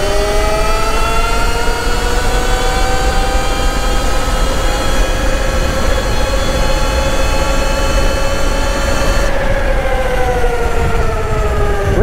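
A high-speed electric bike accelerates hard under throttle, a loud sustained rising whine of motor and drivetrain harmonics that climbs steadily in pitch and holds close and continuous throughout, with rushing wind noise beneath.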